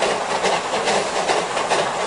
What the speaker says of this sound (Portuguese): o apito da Maria Fumaça ainda ecoa pela mata